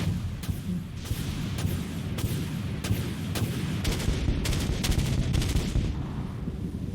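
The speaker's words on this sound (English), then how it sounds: "Launching torpedoes." Torpedoes launch in the naval combat game Dreadnought as a dense, loud barrage of rapid booming shots and cannon-like thuds, continuing without pause over a rumbling battle background.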